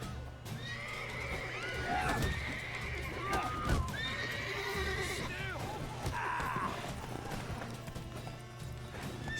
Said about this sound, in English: Scaring the horses, nice.